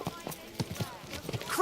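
Horse hooves in Kingdom Come: Deliverance 2 make an irregular clip-clop of soft thuds, moderately near, over a short stretch.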